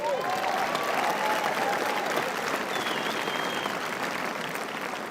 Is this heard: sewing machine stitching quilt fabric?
no